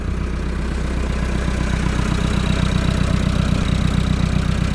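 A Massey Ferguson 390 tractor engine idles steadily up close, a loud, even diesel chug with a continuous low rumble and no voices over it.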